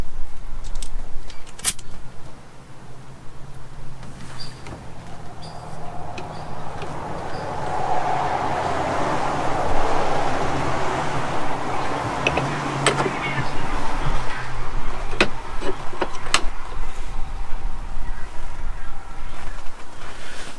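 Compressed air at about 30 psi hissing as it blows oil through a stiff throttle cable on a 115 horsepower outboard motor in a shed, a steady broad rushing that swells and holds close by, with sharp clicks and knocks scattered throughout.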